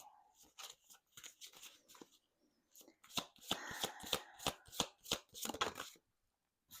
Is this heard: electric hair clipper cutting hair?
no